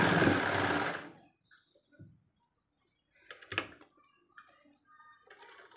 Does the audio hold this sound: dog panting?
no